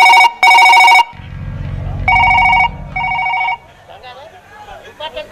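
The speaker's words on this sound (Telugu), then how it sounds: "ఇంపార్టెంట్ కాల్ వస్తుంది" A telephone rings in a drama scene: two loud bursts of electronic ringing open the moment, then two more rings follow over a low rumbling musical bed, with faint movement afterward.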